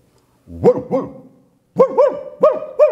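A man imitates a dog, barking in short doubled woofs, two of them then two more pairs after a pause, loud and close to the microphone in a large hall.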